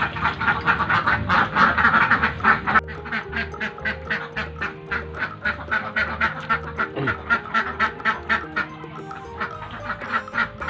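A flock of laying ducks in a pen, in their second laying period after an earlier illness, quack continuously in dense overlapping calls close by, with no talk over them.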